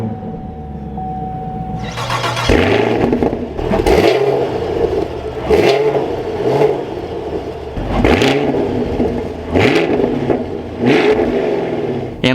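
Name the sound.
2023 Chevrolet Camaro 2SS 1LE engine starting up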